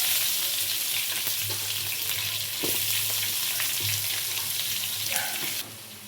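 Onions fry in hot oil with split chickpeas for a poha upma, a loud continuous sizzle with light crackles and a low stovetop hum, heard close up.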